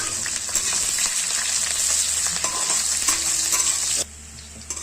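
Sliced onions fry and brown in a pan with a steady, bright sizzle and occasional stirring scrapes, continuous and close, then quieting abruptly near the end.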